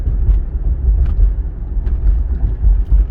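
A 1996 Cadillac Fleetwood Brougham with 75k miles cruises along, heard from inside as a steady, quiet low rumble of engine and road noise with faint faraway ticks.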